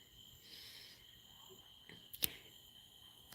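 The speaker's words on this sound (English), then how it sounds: "I hope y'all can hear the crickets" Crickets chirp faintly outdoors on a Texas porch in the evening, a thin steady high trill continuing under a quiet background, broken by a couple of short sharp clicks.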